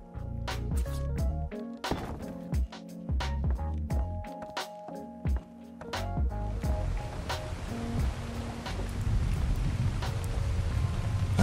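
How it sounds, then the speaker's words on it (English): Rain falling and thunder rumbling in ARK: Survival Evolved, a steady wash of rain that thickens toward the end, broken by sharp cracks and deep rolls of thunder over an in-game music bed. "Okay, so rain and thunder."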